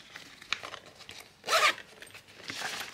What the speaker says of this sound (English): It can zip up nicely